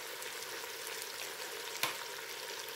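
Chopped onion frying quickly in a pan before curry is added, a steady dense hiss of sizzling oil throughout with one brief sharp tick near the end.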